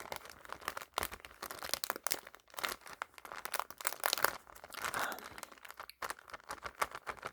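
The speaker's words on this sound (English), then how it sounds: "plastic sheet. So yeah, just doing a little bit of rambling with the crinkles" A plastic sheet is crinkled and crumpled close up in a continuous, busy, fairly soft crackling with irregular rustling bursts and no talking.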